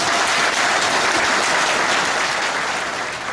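Steady, dense applause from a meeting audience fills the room at a loud, even level and fades slightly at the end.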